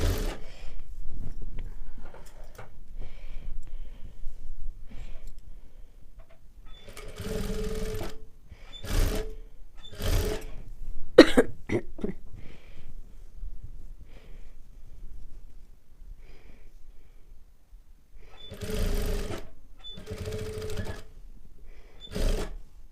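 Sewing machine stitching through the collar of a katori blouse, several short bursts of rapid motor whir separated by quiet pauses, close and fairly soft.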